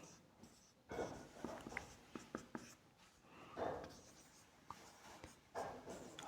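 A pen writes notes during a class 10 physics lesson, giving faint scratchy strokes in short uneven bursts against a quiet, hissy background.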